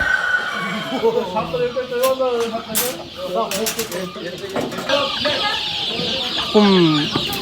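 Chickens cluck and squawk at a busy poultry market in Manas, with occasional louder calls and a rooster-like cry near the end, over a crowded background.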